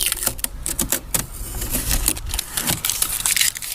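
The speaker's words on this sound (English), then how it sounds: "now we're back after 24 hours and we're going to peel off this tape" Tape peeled off a Sugru putty repair on a handle after a day of curing, a close, crackly, ripping rasp of uneven bursts lasting several seconds with no voice.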